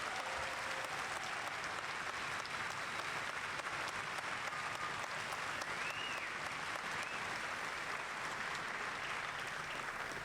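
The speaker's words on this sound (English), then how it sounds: "Please give our newly minted citizens a round of applause." Sustained applause from a large crowd at an army graduation and citizenship ceremony, steady clapping filling the whole stretch without pause, a few faint cheers or whistles rising above it.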